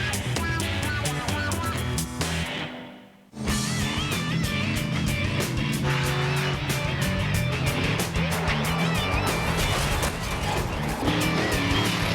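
Monster trucks race side by side at Daytona, engines roaring loudly and continuously, with a brief dip where the sound cuts out before the roar returns at full strength.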